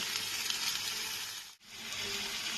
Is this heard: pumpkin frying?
yes